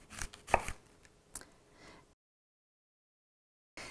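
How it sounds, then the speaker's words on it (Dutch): A knife cuts a trimmed fennel bulb into thick slices on a board, giving a few crisp chopping strokes close up, then silence before a final sound at the end. "En dan gaan we die gewoon in dikke plakken snijden."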